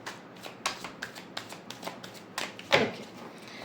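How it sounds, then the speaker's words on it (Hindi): Tarot cards being shuffled, a run of quick papery riffles and flicks in an irregular rhythm, close and fairly soft, with a louder burst near the end and no talking. "वन लास्ट शफल, इसके बाद मैं शफल नहीं करूँगी।"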